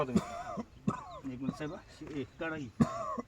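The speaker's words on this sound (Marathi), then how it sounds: "खोकत राहा" During an examination, a person coughs on request, with a few short, harsh coughs mixed in among nearby talking.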